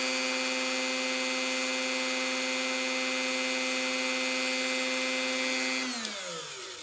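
A Dremel rotary tool polishing a coin gives off a steady, high-pitched whining hum that holds constant for several seconds, then winds down as the motor slows near the end, with no talking.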